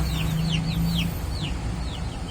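Chickens cluck and chirp repeatedly at close range over a steady background rumble, with high peeping calls overlapping throughout.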